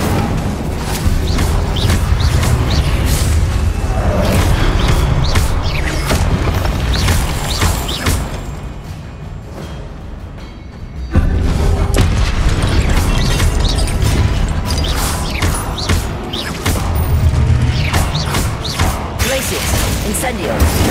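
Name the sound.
spell explosions from Hogwarts Legacy video game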